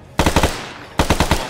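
Two close bursts of rapid automatic gunfire in a wartime shooter game, each a quick run of about four loud shots, separated by a short pause.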